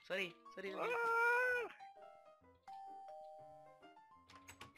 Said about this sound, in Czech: Ne, to je zvonkohra.